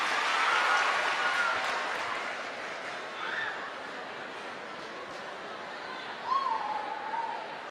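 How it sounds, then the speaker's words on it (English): Seminar attendees clap for themselves in a room, moderate scattered applause with a few voices and brief vocal sounds rising over it, softening midway before picking up again. "give yourselves a round of applause and take a seat"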